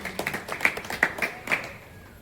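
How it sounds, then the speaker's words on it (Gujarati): An audience at a devotional prayer gathering applauds bhajan singers, a short burst of scattered, fairly soft hand claps lasting about a second and a half before fading out. "જોરદાર એમના માટે એક વખત આપણે તાળીથી અભિવાદન કરીશું."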